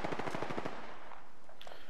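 Rapid automatic gunfire in the battle royale game Apex Legends, a fast burst of loud, close shots lasting under a second, followed by fainter game sounds.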